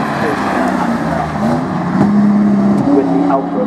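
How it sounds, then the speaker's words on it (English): A Ford Mondeo touring car from the British Touring Car Championship drives past nearby, its engine note rising and steady as it goes by, with people talking over it throughout. "Rouse Mondeo going past"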